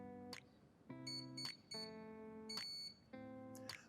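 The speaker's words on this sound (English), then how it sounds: "We heard those 3 beeps indicating a 3-cell battery, followed by the initialization tone." Three short electronic beeps from a Pro Boat Recoil 2 26-inch brushless RC boat's speed controller, signalling a 3-cell battery, followed by a longer rising multi-note initialization tone, clean and fairly quiet, with no talking.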